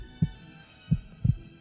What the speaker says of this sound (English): I began hearing a heartbeat.